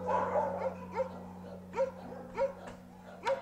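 Several dogs, travelling with a female shelter dog on a 17-hour transport-van journey from Romania to eastern Germany, let out a string of sharp, spaced barks and yips over a steady engine drone inside the van.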